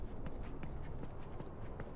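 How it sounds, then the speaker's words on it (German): Steady footsteps in The Last of Us: Left Behind thud at an even walking rhythm, several soft hollow steps over a dense rumbling ambient background, with no talk. "Ich hatte gerade das Gefühl, ich höre noch andere Schritte."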